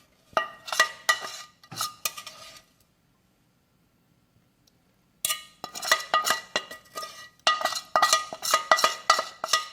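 A utensil clinks and scrapes against a container in quick, irregular strokes as a pineapple sugar mixture is stirred into a corn solution, pausing in silence for a few seconds before resuming, close and clear.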